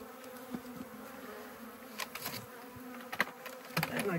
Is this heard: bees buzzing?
yes